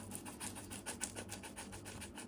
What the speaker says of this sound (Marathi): आपला बटाटा मस्त असा किसून घेतला